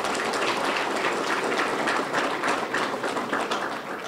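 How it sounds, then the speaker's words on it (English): Steady applause from a school audience cheering student athletes at a high school signing day, dense continuous clapping filling the room at even loudness throughout. "So big round of applause for these young men and women."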